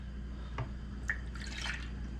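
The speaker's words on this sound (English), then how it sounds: "I think I'm going to go 1 more cup and make it a total of 5 cups of milk added to this" Milk poured into a pot of morel mushroom, potato and leek soup, heard as a few soft drips and a brief splashing trickle over a steady low hum, close and fairly quiet.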